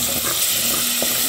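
A little water poured into a hot pan of seasoning for ground beef with potatoes, giving a steady hissing sizzle that fills the whole moment, close and fairly loud without a break.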